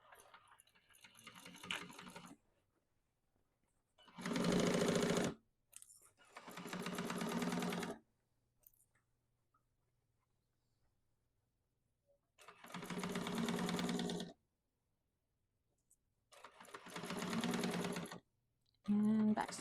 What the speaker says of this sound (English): make sure you're only sewing through the two panels